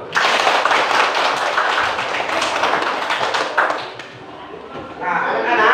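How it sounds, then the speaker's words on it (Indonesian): Sustained applause from a class of children, many small hands clapping at once in a dense, loud patter for several seconds, fading briefly before swelling again at the end. "Tepuk tangan dulu."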